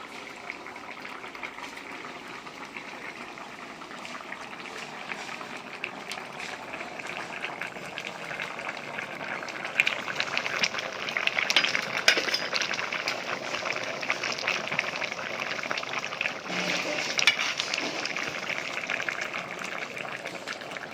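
Eggs cut into pieces go into a simmering Bengali-style curry with potato and cauliflower in a pan, giving a steady bubbling, sizzling hiss that swells louder midway, with no talking.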